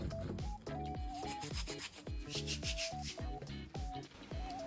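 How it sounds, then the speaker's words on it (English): Salted cucumber rolled and rubbed against a cutting board in the Japanese itazuri method, heard as a rhythmic series of close, gritty scraping strokes with a musical backing running underneath. "I love the sounds of cucumber with salt like this."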